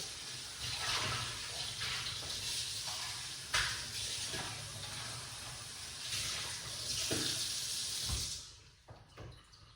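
Colon cleanse liquid pours out at home in a steady, close splashing stream that runs unbroken for several seconds, then thins and trails off into brief drips near the end.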